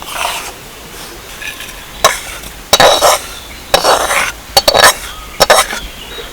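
Semolina milk cake mixture being mixed in a pot, with a spoon scraping and clanking against the metal in several sharp, irregular strokes between quieter pauses. No voices.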